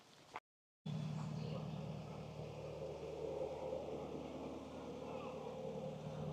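A canal boat emerging from a tunnel on the Grand Union Canal, a steady low engine drone with a hum that holds throughout, moderately close, after a brief dropout at the start.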